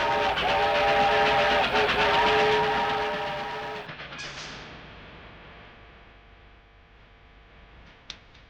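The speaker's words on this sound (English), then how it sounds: "This is the tallest toy train display in the world" A toy train runs on the world's tallest toy train display inside a department store entrance, giving a loud, steady rolling rumble with a whistle-like tone that fades after about four seconds, followed by a quieter hum and one sharp click near the end.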